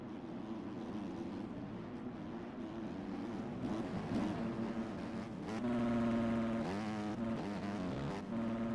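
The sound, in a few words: 250cc motocross motorcycles racing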